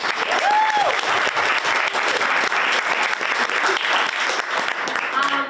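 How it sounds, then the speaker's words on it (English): Sustained, dense audience applause for a women's history month panel, a loud wash of clapping hands throughout with faint voices mixed in. "So give them a round of applause."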